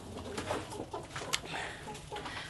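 Pigeons coo near a wooden pigeon house, soft low burbling calls repeating close by over faint background noise.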